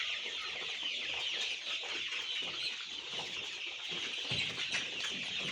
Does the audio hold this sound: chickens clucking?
yes